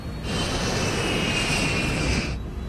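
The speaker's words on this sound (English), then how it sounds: "As the plane accelerates down the runway, airspeed increases" An airliner accelerates down the runway on takeoff with a loud, sustained engine roar and a high whine that builds and holds for about two seconds, then drops away.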